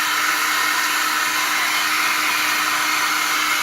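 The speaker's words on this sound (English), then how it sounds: "you can take a hair dryer like this one and dry it out" A handheld hair dryer blows steadily on a car seatbelt to dry it, a loud, constant airy whir that holds unchanged from start to finish with no talking.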